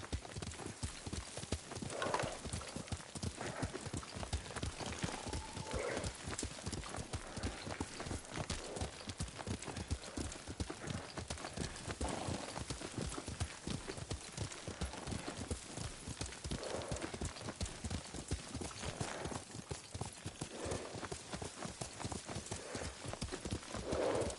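In a samurai video game, a horse is ridden at a steady pace. Rhythmic hoof clip-clops repeat continuously and fairly quietly throughout, with a few snorts mixed in.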